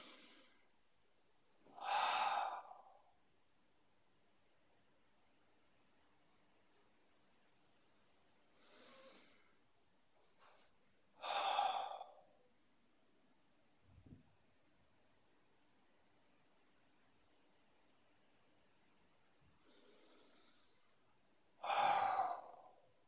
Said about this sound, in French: Donc on respire bien.